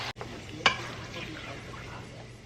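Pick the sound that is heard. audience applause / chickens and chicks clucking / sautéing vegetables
sautéing vegetables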